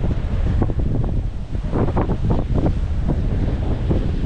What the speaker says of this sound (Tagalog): kaya mahangin dahil hinihigop yun ng bagyo